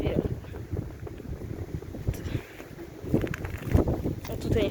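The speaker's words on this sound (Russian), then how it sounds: "Вот такой вот сильный ветер, аж смотрите, поднимается вверх." Strong wind buffets the microphone outdoors at a rural yard where chickens are fed, a loud gusty rumble that swells and drops throughout, with faint movement noise underneath.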